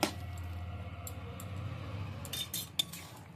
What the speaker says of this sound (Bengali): এবার একটা প্লেটের মধ্যে নামিয়ে নিচ্ছি